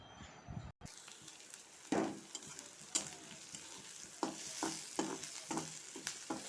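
Onion, ginger, garlic, whole cumin and dried and green chillies frying in oil in a wok, a steady sizzle broken by sharp bursts as spices hit the pan and are stirred, with a brief drop to silence near the start; no talk.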